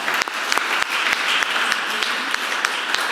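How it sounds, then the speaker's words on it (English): Audience applause at a Shabbat service, a steady, dense wash of clapping from a congregation with a few sharper individual claps standing out, continuous and fairly close throughout. "I think they deserve a round of applause."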